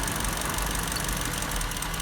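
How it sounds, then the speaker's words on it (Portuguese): A car engine idles roughly and nearly stalls while individual cylinders are switched off during a misfire test, a dense, steady, close mechanical rumble with no speech. "Quase morreu o motor."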